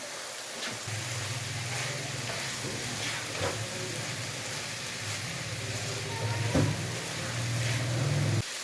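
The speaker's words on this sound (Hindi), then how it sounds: "चिकन का कलर वाइट हो गया, तो अब डाल देंगे ये बंद गोभी।" Shredded cabbage goes into a pan of frying boneless chicken and sizzles steadily up close, with occasional stirring scrapes and a brief thump, no talking.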